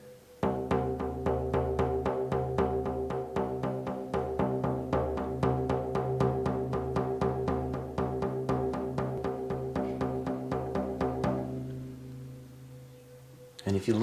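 Drum rhythm at 120 beats per minute, steady evenly spaced hits over a sustained tonal bed, loud and driving for about eleven seconds before fading out.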